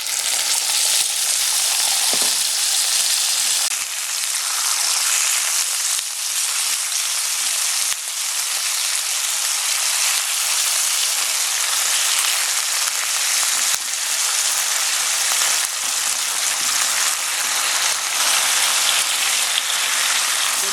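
Ginger shogayaki sauce poured over pork frying in a pan gives a loud, continuous sizzling hiss that holds steady throughout, rain-like and close, with no talking.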